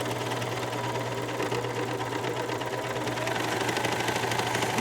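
A sewing machine with a chain looper and elastic thread stitches fabric with differential feed at maximum and a very long stitch, running as a steady close mechanical whir with rapid needle chatter and no voices.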